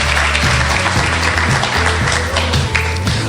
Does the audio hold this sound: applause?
yes